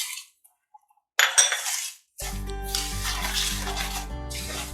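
A spoon stirs sugar in a pan for aflatoon sweet, with scraping and clinking after a short quiet gap, then steady close stirring and no voices.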